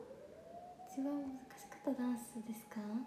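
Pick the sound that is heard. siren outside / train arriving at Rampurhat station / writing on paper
siren outside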